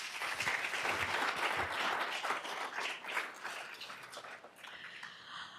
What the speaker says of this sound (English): Let's give the traditional generation a round of applause.